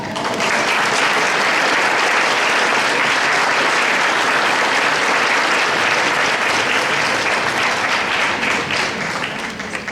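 An audience at a Bible study day applauds a priest after his talk, dense, loud and sustained clapping from a large crowd that holds steady throughout and only begins to ease at the very end.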